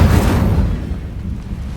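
An Incendio fire spell cast in Hogwarts Legacy, a loud whooshing burst of flame that starts strong and rumbles as it fades over a couple of seconds.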